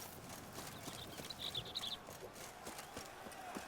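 Horse hooves clop at a steady trotting rhythm in the video game The Witcher 3: Blood and Wine, faint under a continuous ambient wash with a few brief higher chirps.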